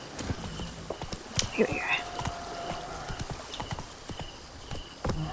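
Horse hooves clip-clopping in the video game Witcher 3, a quick, irregular run of hoof strikes with a brief whinny, under occasional spoken words.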